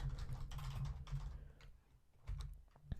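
Steady typing on a computer keyboard while entering a JavaScript code comment, with quick close key clicks in bursts, a short pause, then a few more strokes and a sharp final tap.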